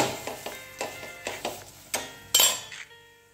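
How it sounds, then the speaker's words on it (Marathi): Gulpoli, a jaggery-and-coconut flatbread, roasting in ghee on a pan, with a steady soft sizzle broken by regular clinks and scrapes of a utensil against the pan, close and fairly quiet. "अशा पद्धतीने दोन्ही बाजू व्यवस्थित मी भाजून घेते"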